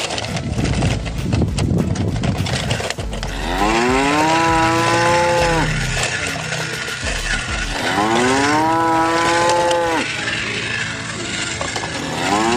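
Cow mooing twice, long loud drawn-out lows with a rising then falling pitch, close by amid a busy background of clatter and noise.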